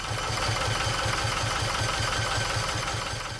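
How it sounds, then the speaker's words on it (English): Inboard diesel engine on a wrecked sailboat runs at a steady rhythmic idle, loud and close, with an even pulsing thump and mechanical vibration throughout. "With the engine running, he put it into forward or reverse gear"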